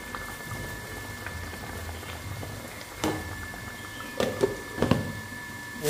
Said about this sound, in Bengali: মাছের ঝোলটা ফুটে গেছে